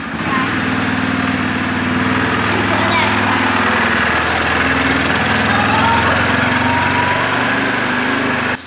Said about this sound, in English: So this is the tractor that you've seen in the video that was ridging.